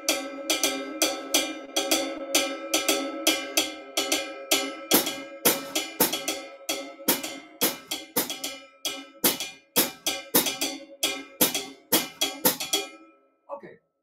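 An atoke bell rings out sharp metallic strikes in a repeating pattern alongside a steady hi-hat rhythm, close and clear, playing alone for several bars before stopping.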